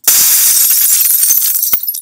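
A crashing-glass effect from a sound library opens with a loud, sharp shatter, followed by scattered tinkling shards that thin out and fade.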